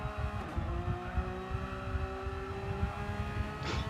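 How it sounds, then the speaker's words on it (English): A Porsche race car with straight-cut gears lapping Spa-Francorchamps in a racing game, its engine a steady droning whine with gear harmonics and a brief rising rev near the end. "Beautiful sounding Porsche. Straight cut gears, of course, on the Porsche as well."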